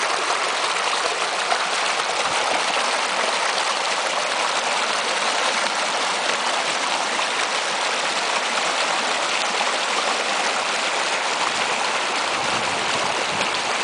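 Water rushes continuously through rock plunge pools in a restored brook trout stream, a loud, steady broadband gush with no other sounds standing out.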